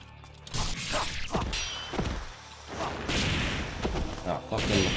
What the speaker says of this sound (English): Explosions, man.